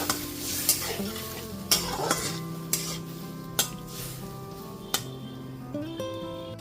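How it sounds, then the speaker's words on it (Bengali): Spice paste for a pabda fish curry with potato and eggplant is being stirred and fried in a pan after water is added, giving a soft sizzle under repeated sharp clinks and scrapes of the spatula, spaced roughly every second. "তারপর খুব ভালো মতো একটু মশলাটা কষিয়ে নিচ্ছি"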